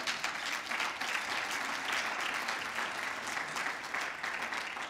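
An audience applauds at a STEM event, with steady, dense clapping holding at an even level for the whole stretch and no voices on top.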